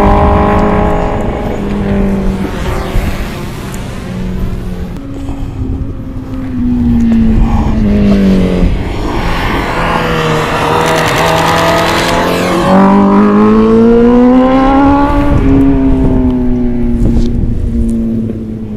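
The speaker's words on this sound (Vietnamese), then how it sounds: "Tiếng motor đã quá." A 2020 Honda CBR1000RR-R motorcycle engine revs loudly and close, its pitch climbing and falling through repeated throttle blips and rising runs over a sustained mechanical roar, with no talking.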